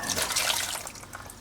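Coolant splashes and trickles out of a disconnected lower radiator hose into a catch can during a water pump change, a continuous close liquid pour with small drips, fading slightly toward the end.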